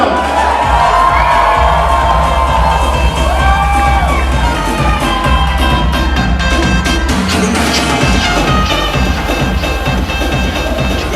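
Wedding reception guests scream and cheer loudly over thumping dance music, a packed room of shrill whoops and shouts that holds strong throughout.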